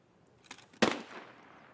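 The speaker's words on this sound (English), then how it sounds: "So that's a lot of gunfire to my left." Distant gunfire in Escape From Tarkov, a couple of faint shots followed by a sharper, louder crack that rings out and decays, heard off to one side with no talk.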